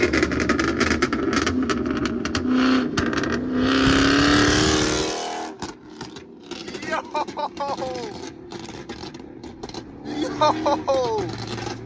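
A Chrysler 300 392 Scat Pack with a burble tune revs and accelerates hard through city streets: a loud rising exhaust roar, then a sudden lift-off and a run of crackling pops and burbles, with excited voices shouting over it.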